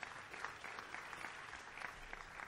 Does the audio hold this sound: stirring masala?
no